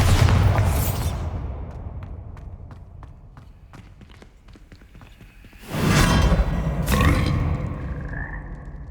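Bombarda blasting spell from the Hogwarts Legacy video game: a loud, full-spectrum explosive boom opening the clip and fading, then a second heavy burst and rumble near the end, with scattered clicks between.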